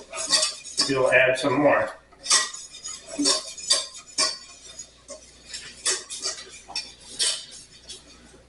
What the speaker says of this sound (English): You're just going to add a little of the milk and cream mixture and stir.